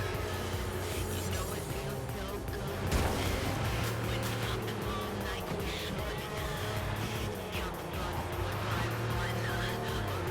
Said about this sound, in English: Just cruising in my new Porsche